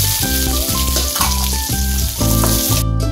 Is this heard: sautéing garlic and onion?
yes